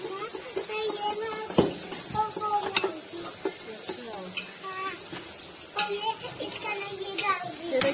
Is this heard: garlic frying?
yes